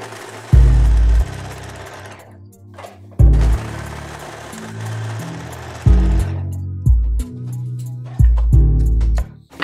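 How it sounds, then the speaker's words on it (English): A sewing machine stitching straps onto a bodysuit runs in several loud, close bursts of rapid whirring stitches, separated by brief pauses. "all we need to do is just sew along here, and that's our straps in place"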